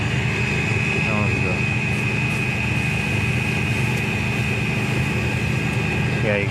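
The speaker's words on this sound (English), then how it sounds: "you can hear it kind of hissing a little bit" A repaired generator running at a steady drone with a constant, faint hiss layered over it, close and continuous while a person talks over it.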